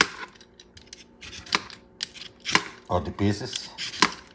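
A peeled carrot being shaved into pieces with a knife, a series of crisp close scraping cuts in irregular rhythm, with a voice speaking briefly partway through.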